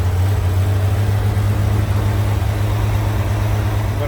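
A 1994 Honda Goldwing 1500 Aspencade idles quietly and evenly up close as a low, smooth, steady hum with no talking.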